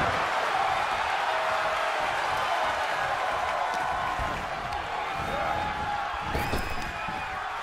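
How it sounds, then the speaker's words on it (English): A large wrestling-match crowd in a video game roars and cheers continuously in a dense, loud wash of noise, with a few sharper shouts rising above it. "The sound of this crowd is deafening, and he's asking for more."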